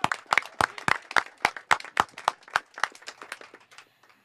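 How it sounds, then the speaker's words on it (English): Scattered applause for examiners at a meeting: a small group clapping, roughly a dozen distinct, fairly close hand claps in a loose rhythm that thins and fades over a few seconds. "So let's give them a round of applause."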